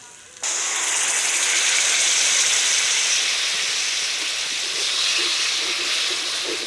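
Whipped yogurt hits a hot pan of stuffed pointed-gourd curry with a sudden loud hiss that starts abruptly and then keeps up as a strong, steady sizzle with faint bubbling.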